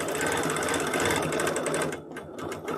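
A quilting sewing machine stitches through a quilt with a fast, even, rattling needle rhythm, close and loud, briefly slowing before picking back up; no talking.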